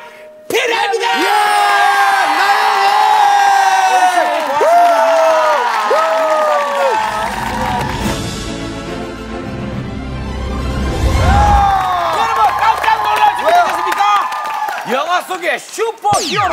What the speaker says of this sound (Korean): 여러분들의 힘찬 박수가